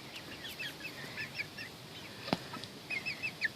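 Several soft, short chicken clucks scattered over steady background noise, with one sharper sound near the middle. No talking.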